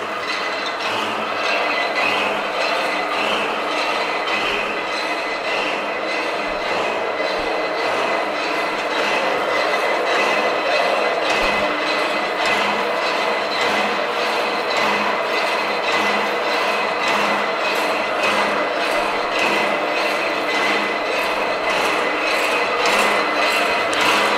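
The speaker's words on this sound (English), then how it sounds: "the hacksawing motion is going to go through the entire piece automatically until it gets down to the bottom of the machine" An 11 x 17 inch Peerless Mechan-i-Cut heavy duty power hacksaw cuts through metal with a steady, rhythmic mechanical clatter of repeated strokes that runs unbroken throughout, fairly loud and without speech.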